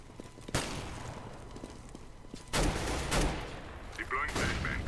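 Shotgun blasts in Counter-Strike: Global Offensive, a few sharp, loud reports spaced about two seconds apart, with softer in-game clatter and movement between them.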